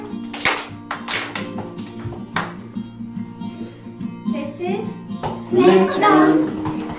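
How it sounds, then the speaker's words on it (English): Children clapping along to a music action song, a few sharp hand claps and taps spaced irregularly over a backing tune, with a voice singing or talking and a brief burst of cheerful noise near the end. "Let's clap."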